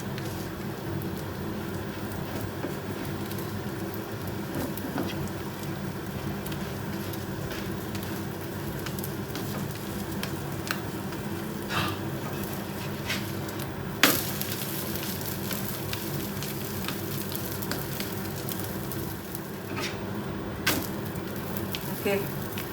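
Egg paratha fries in oil in a pan over low heat, giving a steady, close sizzle throughout with occasional sharper pops and faint scraping.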